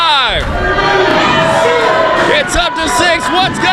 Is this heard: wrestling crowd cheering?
yes